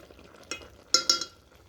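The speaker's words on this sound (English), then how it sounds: "We are going to mix milk and sugar." Milk and sugar for rice pudding get stirred with a spoon in a pot, making a few short, close clinks and scrapes, two of them sharper, against quiet surroundings.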